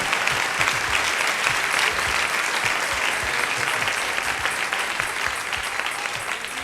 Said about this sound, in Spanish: Denle ese aplauso al Señor en esta hermosa mañana.